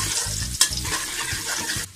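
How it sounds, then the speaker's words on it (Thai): Shallots and garlic fry and sizzle steadily in hot oil in a pan, with intermittent scraping and stirring bursts throughout and a sharp clink partway through, close and fairly loud, with no talking. "เจียวหอมกระเทียมนะคะ"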